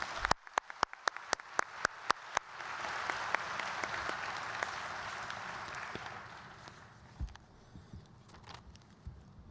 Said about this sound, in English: Please give them a round of applause and thank them.